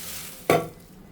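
Curry leaves and garlic with chilli powder hit hot oil in a pan, giving one sudden sizzling burst that fades into a soft, steady frying hiss.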